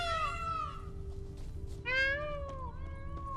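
In The Witcher 3, a peacock gives two loud, wailing, cat-like calls close by, each a long drawn-out cry that bends downward, with a low background hum underneath.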